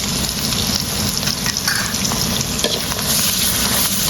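Crab curry with turmeric, chili and cumin being stirred in a frying pan, a steady loud sizzle with scraping strokes of the spoon throughout, close and continuous.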